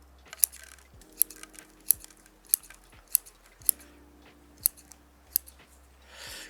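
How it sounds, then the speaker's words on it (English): Pruning shears snip through a Premna bonsai cutting, giving a steady run of crisp, close cuts spaced about a second apart, each a short bright click, with a soft rustle at the end. "So I think what I'll do is I'll cut a little bit more of this front."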